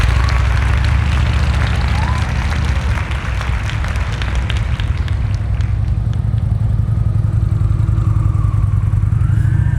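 Motorcycle engine idling and pulling at walking pace during slow-speed riding drills on a Texas practice range, a steady close rumble with faint voices underneath.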